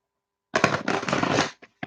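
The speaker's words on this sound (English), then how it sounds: "So as I try to get and shuffle these cards together because they're so thick" Thick tarot cards being shuffled together: a dense, riffling burst of card flutter lasting about a second, followed by two short snaps as the deck settles, close and fairly loud with no talking.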